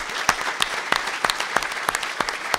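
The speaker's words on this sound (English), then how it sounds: "Round of applause, please." An audience claps steadily at a City Club of Chicago event, a brisk, even round of applause with sharp individual hand claps standing out from the crowd.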